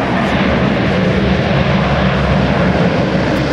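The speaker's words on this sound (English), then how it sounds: "Now, we see these C-130s coming down right now." Lockheed C-130 Hercules transport aircraft come in to land at a military airfield open house, a loud, continuous propeller and turboprop engine roar that stays broad and steady throughout.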